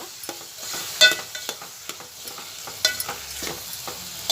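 Tomatoes frying in oil in a home kitchen are stirred in the pan, with a steady sizzle under repeated scraping and clinking strokes of the spoon, close and without talk.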